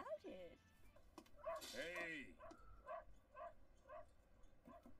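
A dog in an anime episode of Cowboy Bebop gives a series of short barks and yips, with a whiny, rising yelp partway through. The sounds are moderately loud and mixed under people talking over a scene soundtrack.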